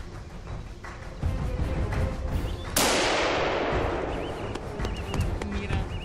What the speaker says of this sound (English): he produces a desperate shot from 120 meters through the densely located thick trunks